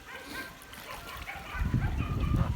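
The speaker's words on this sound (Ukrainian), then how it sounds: "Але собаки гавкають, не лякаються тих собак." Dogs bark sharply a few times at a distance at Kholmogory geese on a stream, with splashing water and a voice faintly mixed in.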